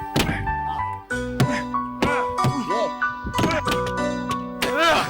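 A trunk is struck repeatedly to force it open, with several dull, heavy thuds in quick succession mixed with people's voices and background music.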